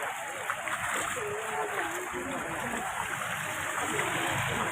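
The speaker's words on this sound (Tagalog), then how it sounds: "O yan, baha na naman dito." Water splashes and swishes steadily through a flooded street in Tondo, Manila, a continuous wash of sound close by, with people talking over it.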